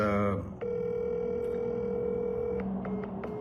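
A telephone ringback tone: a sustained electronic tone after a brief voice at the start, with faint clicks near the end.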